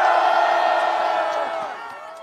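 A large crowd at an outdoor winter rally against an impeachment roars and cheers in a sustained, loud wave that slowly fades.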